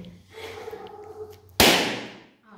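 A white balloon bursts during a party word game, one sharp loud pop after a quiet stretch with faint background murmur.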